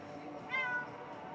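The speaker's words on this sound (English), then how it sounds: "Talky cats." A single short cat meow, fairly close and moderately loud, over a quiet indoor background with no talking.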